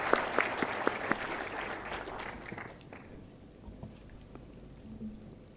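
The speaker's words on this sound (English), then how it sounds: "May I request all of you to please join me in giving a round of applause to our speakers." A seminar audience at a maritime event applauds the speakers, fairly faint and thin clapping with a few distinct sharp claps at first, tapering off within about three seconds into quiet room noise.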